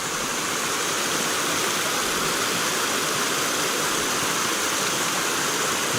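Steady, dense rushing of flowing water, loud and continuous, from a nearby creek running over rocks in a rain-soaked Georgia forest.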